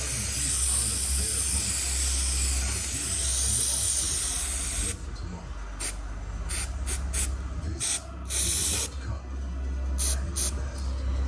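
Spray adhesive hissing from a can onto a Corvette C6 seat: one long continuous spray for about five seconds, then several short bursts, close and loud, with no talk.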